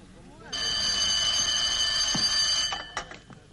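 A telephone bell rings loudly and steadily for about two seconds in an old Polish film scene, cutting off abruptly before a click as the receiver is picked up, with faint background noise around it.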